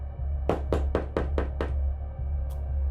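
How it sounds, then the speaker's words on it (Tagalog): Knocking on a door: about six sharp, evenly spaced raps in quick succession, then a single faint tap after a pause, close and clear over a low background hum. "Eksaktong 12:00. 3 katok."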